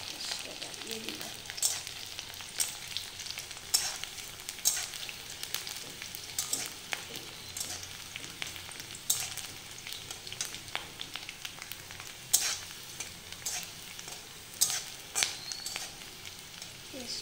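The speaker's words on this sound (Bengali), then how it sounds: "তারপরে যখন একটু লাল হবে পেঁয়াজটা, তখন আমি পেঁয়াজটা ভাজতে হবে" Onions frying in oil in a pan, a steady crackling sizzle with scattered sharp pops and spits running throughout, fairly close and alone with no talking.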